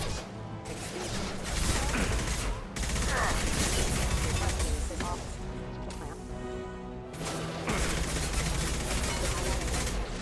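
Video game gunfire in sharp bursts of rapid shots and crashing impacts, loud and dense, with short pauses between volleys.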